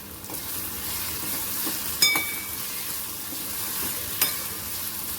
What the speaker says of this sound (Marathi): ते छान एक बारीक गॅसवर छान परतून द्यायचं आहे